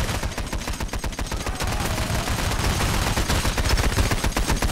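Dense, continuous video game gunfire from a bank robbery, with rapid shots layered into a steady automatic barrage that stays loud and unbroken throughout.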